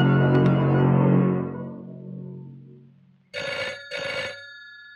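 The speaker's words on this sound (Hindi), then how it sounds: "अगर जय का फोन होगा तो मुझे देना, समझ गई?" A decaying tone fades out, then a telephone rings twice in sharp bursts, loud and close.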